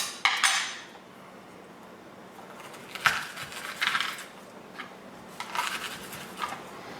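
Metal spoon scraping pasta sauce off a food mill, giving a few short clinks and scrapes spaced over several seconds, close and fairly quiet, with no talking.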